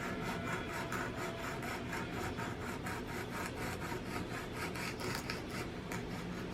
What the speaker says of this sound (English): I'm filing again the nail tip into the trainer hand's nail bed.